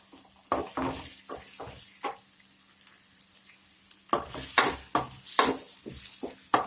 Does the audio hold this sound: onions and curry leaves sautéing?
yes